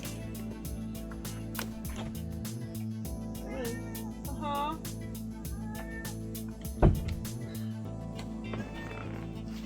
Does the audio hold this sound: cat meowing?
yes